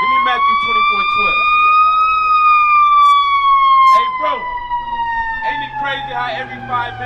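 An ambulance siren wails with a slow rising and falling tone as it drives past nearby. Shorter whoops and traffic noise come in under it, and people talk over the sound.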